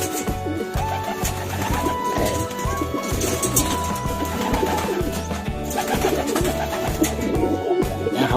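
Racing pigeons coo in repeated low, throaty phrases, several birds overlapping close by in a steady rhythm with occasional clatter in the background.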